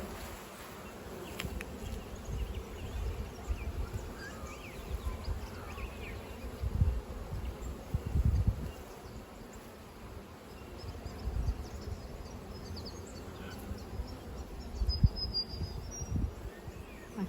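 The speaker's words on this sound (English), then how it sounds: "It's got a lot of bees on it." Honey bees swarm over a hive frame, a close, continuous buzzing hum that rises and falls in loudness over many seconds, with no talking.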